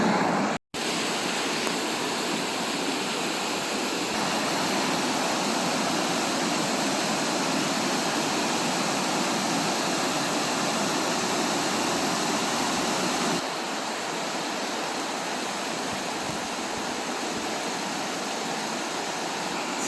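Broad, steady roar of river rapids and falls on the Mabel Dufond River beside Highway 630, loud and continuous with no voices, dipping slightly in level partway through.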